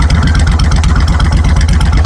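Suzuki C90 Boulevard cruiser motorcycle idling with its stock exhaust baffles in, a loud, close, steady low-pitched rumble with even pulsing throb and no voices.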